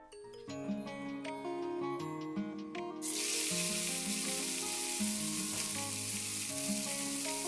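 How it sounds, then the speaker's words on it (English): Food sizzles loudly in a hot pan, a sudden hiss that takes over halfway through and keeps going, with music playing underneath. "I'll stir frying all the ingredients together at the same time."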